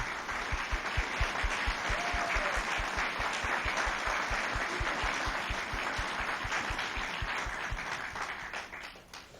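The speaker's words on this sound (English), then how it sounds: "let's please give them a warm round of applause" An audience applauds elected officials at a 2014 State of the County event: a sustained, dense wash of many hands clapping at full strength for most of the stretch, then tapering off with scattered final claps.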